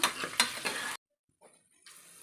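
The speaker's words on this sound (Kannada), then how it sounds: "ಈರುಳ್ಳಿ ಹಾಕಿ ಎಲ್ಲ ಒಂದ್ಸಲ ಚೆನ್ನಾಗಿ ಈ ರೀತಿ ಫ್ರೈ ಮಾಡ್ಕೊಳ್ಳೋಣ" Onions sizzling and being stirred in a pan, a scraping spatula over hot oil, then a brief quiet gap before the sizzle picks up again.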